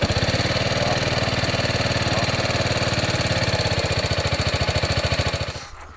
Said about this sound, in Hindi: हमारी जी बाइक फाइनली स्टार्ट हो गई है।